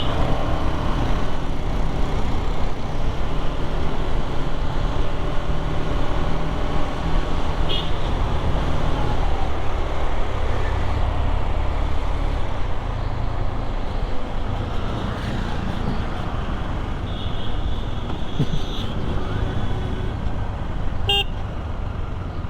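A KTM Duke 250 motorcycle rides along a road with a steady, close engine and wind drone, passing traffic and a few brief horn toots in the background.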